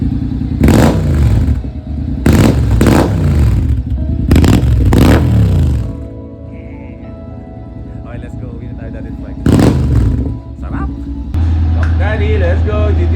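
A motorcycle engine revs in a steady, throaty drone, close and loud, between stretches of people talking over it.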